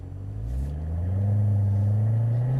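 A supercharged V8 in a Chevrolet Corvette Z06 Stingray accelerates on a racetrack, its deep engine rumble climbing steadily in pitch and loudness across a couple of seconds, close and continuous with no talk.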